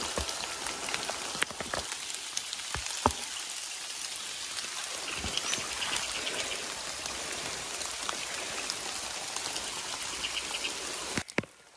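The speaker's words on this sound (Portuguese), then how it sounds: "Aí agora chegou essa chuvinha para aliviar o calor aqui da nossa região." Light rain patters steadily on surfaces at a farm, a dense, even hiss of drops with a few sharper nearby splats, heard alone without talk.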